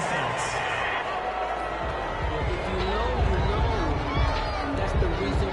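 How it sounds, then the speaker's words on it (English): A home football crowd roars and cheers after a pass interference call against the defense, a broad sustained stadium noise with a commentator talking over it. "This home crowd, they're happy with that call."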